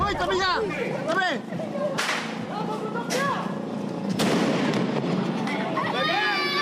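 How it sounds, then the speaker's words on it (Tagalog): Sharp firecracker bangs go off one after another in a street in Tondo, Manila, greeting Christmas, the loud cracks scattered irregularly among shouting voices and the bustle of young people nearby. "Kaliwat kanang paputok ang sinindihan nila sa kalsada para salubungin ang Pasko."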